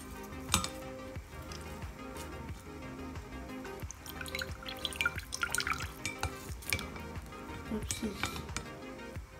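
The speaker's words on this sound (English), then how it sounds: "Press it down to make sure that every water comes out." Water drips and trickles from pressed rose petals in a close, irregular patter, with soft wet splashes and an occasional faint clink, and a quiet murmur of voices underneath.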